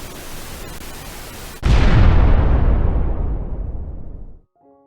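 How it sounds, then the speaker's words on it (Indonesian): A sudden loud crash of rushing water gives way to a long, fading hiss that dies out after a few seconds. "Bara raksasa itu jatuh ke air dengan deburan dan desisan hebat."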